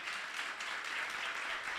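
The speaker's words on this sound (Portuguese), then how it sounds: "Dá uma salva de palmas para o Senhor." A church congregation applauds together, a steady, dense wash of clapping sustained throughout without pauses, moderately distant and fairly quiet, with no speech over it.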